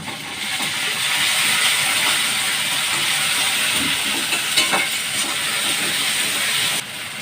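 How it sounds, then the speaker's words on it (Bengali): Onions frying with ginger-garlic paste in hot oil give a loud, continuous steamy hiss that stays steady before dropping off abruptly near the end. "এবার পেঁয়াজ দেবো, ভাজবো। এক চামচ আদা রসুনের পেস্ট দিয়ে কষবো।"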